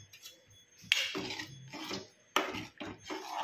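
Spoon stirring kheer with almonds and raisins in a metal pot, intermittent scraping and clinking strokes, close and moderately loud.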